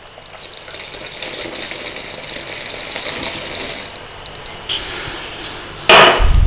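Melted fats are poured into flour for hot water crust pastry, a soft hissing, trickling wash close by that builds gradually, with a brief louder splash and a scraping burst near the end.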